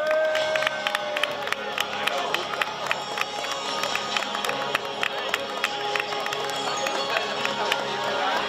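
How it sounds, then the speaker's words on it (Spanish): Crowd at a triathlon awards ceremony in San Roque claps and cheers steadily with dense, continuous applause, a busy hubbub of voices mixed in throughout. "Un fuerte aplauso para todos ellos."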